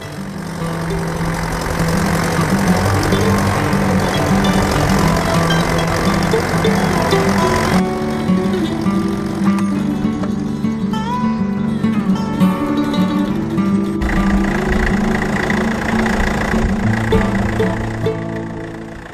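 A land drainage tractor engine runs continuously and loudly nearby, a steady mechanical drone with shifting tone partway through as it works in a field.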